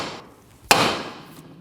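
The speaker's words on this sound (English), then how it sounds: "Using a hammer, tap on the side of the knuckle where the tie rod goes in to break the tension." A single sharp hammer strike rings against the steering knuckle of a 2008-2015 Scion xB where the tie rod enters, a crisp metallic crack that decays quickly in a quiet space.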